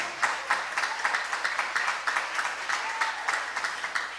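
A church congregation claps for the Lord at a JMCIM crusade, a dense crowd of hands sustained and fairly steady, with a few sharper rhythmic accents rising above the patter throughout.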